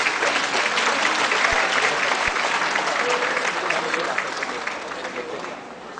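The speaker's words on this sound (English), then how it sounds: "A round of applause to Undersecretary Tina Ocampo." Loud, continuous applause from an audience at a school assessment event, dense and steady before tapering slightly at the end.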